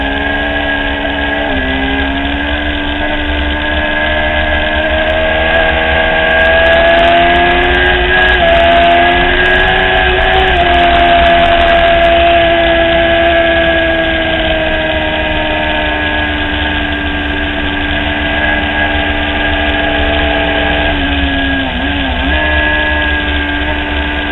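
Race cars lapping a track on the final lap of a race, heard as a loud, continuous layered engine drone whose pitch dips and rises several times as the cars pass and shift.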